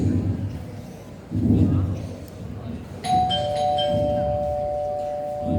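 A doorbell chimes two sustained tones during a school Diwali stage performance, ringing clearly over a muffled background of voices and room noise.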